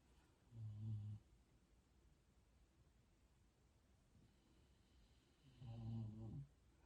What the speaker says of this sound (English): Oh yeah, the babies are definitely snoring back here.